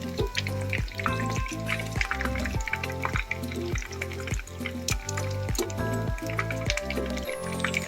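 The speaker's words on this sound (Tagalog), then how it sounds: "Ayan, malapit na siya maluto mga suki, oh. Ang ating fried tilapia." Tilapia fries in a pan of oil with a steady crackling sizzle. Dense popping and bubbling continue throughout at close range, with a rhythmic low knocking underneath.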